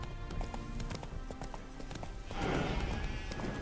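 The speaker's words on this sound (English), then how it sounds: "Spooking my horse. Roach doesn't like ghosts." A spooked horse in The Witcher 3 video game gives a loud, breathy whinny after a stretch of clattering hoofbeats, heard close with game ambience.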